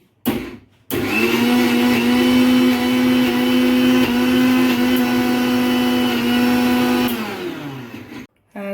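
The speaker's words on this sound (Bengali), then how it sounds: "মিক্সিতে আমি এবার বেটে নিচ্ছি।" A kitchen mixer grinder blends tomato chutney in one loud, continuous whirring run of about six seconds, then winds down to a stop, with brief clicks before and after.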